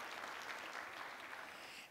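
Faint, steady applause from a summit audience at the iMedia Video Summit 2013, a dense patter of many hands that runs without a break for about two seconds.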